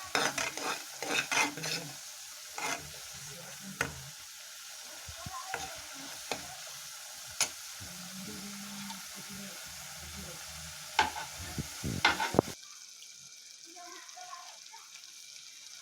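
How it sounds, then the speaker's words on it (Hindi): Egg curry masala for anda chingari frying in a pan with repeated spoon scrapes and clicks over a soft sizzle, the stirring stopping near the end and leaving a quiet hiss. "अब हम ये मसाला जो है वो अच्छी तरह से भून गए हैं"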